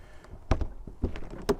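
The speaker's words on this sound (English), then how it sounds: "Let's see if the door will shut." A Hartal caravan door with a newly replaced lock is pushed shut, giving a few close clicks and knocks, with a sharp latch thud near the end.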